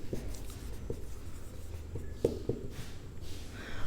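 Pencil or pen writing out a Class 10 maths solution by the elimination method on paper, with scratchy strokes and taps in an uneven rhythm, close and fairly quiet, no talk.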